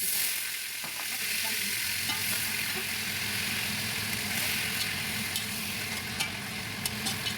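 Prawns frying in oil that was also used for cooking fish, giving a steady, loud sizzle that runs unbroken throughout, with faint stirring clicks near the end.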